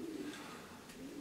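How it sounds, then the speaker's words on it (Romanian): Marathon racing pigeons, a medium-to-small breed kept by a fancier, give a soft, low, brief cooing that sounds fairly near but faint against a quiet background. "îmi plac foarte mult porumbei de maraton"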